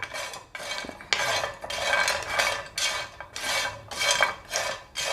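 Whole garam masala spices being stirred and dry-roasted in a pan, a close, steady scraping and rattling of a utensil against metal in repeated bursts, with no talking.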